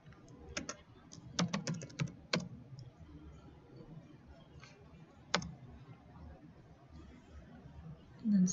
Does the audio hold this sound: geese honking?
no